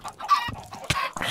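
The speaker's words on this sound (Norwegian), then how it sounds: "Hør på alle disse kyllingene." Several chickens clucking in the video game Minecraft, a quick burst of overlapping bird calls and clucks, close and fairly loud, with no talking.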